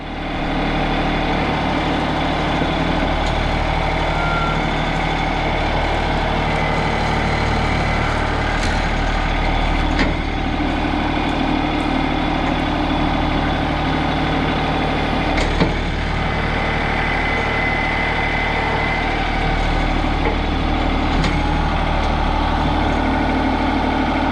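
A John Deere 2032R compact tractor strains at a steady, loud diesel drone while pulling a leaning cherry tree with a chain, the engine holding constant under load for the whole stretch with a few faint knocks and clanks.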